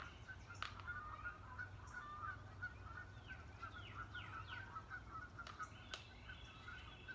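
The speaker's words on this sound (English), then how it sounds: "I have geese in my yard. They drive me nuts." Geese in a yard honk in a steady run of calls at moderate distance, repeated nasal honks over a low rumbling background, with a few sharp clicks or knocks in between.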